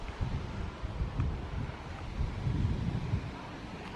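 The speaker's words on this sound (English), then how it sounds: "There's some wind." Wind from a severe thunderstorm buffets the microphone as steady, low rumbling gusts that swell and fade continuously, loud and close throughout, with no talking.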